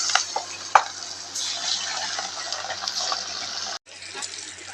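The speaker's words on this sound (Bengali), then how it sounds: "মাছগুলোও ভেজে নেব।" Fish frying in hot oil during home Bengali cooking, a steady broadband sizzle with a few sharp clinks and spatters, briefly cutting off near the end before resuming.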